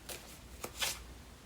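Tarot cards are shuffled in a few quiet, papery bursts and riffles, soft and close in an otherwise still room.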